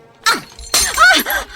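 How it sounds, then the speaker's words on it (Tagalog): A drinking glass breaks in a short indoor scene, with a bright crash followed by a second longer burst of shattering fragments, loud and close, with no talk over it. "Imbuong mo ti baso, Miss Windy."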